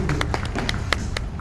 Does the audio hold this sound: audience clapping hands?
yes